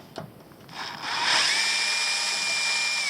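An electric driver unscrews a screw on a VKAR Bison RC car, starting with a few clicks and a brief burst, then settling into a steady, loud, close whine that runs on without talk.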